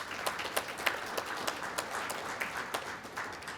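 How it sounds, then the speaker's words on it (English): A crowd applauds at a statewide Louisiana broadcast event, a dense patter of many hands with distinct louder claps popping out, steady at moderate level throughout. "I think that's worth applause as well"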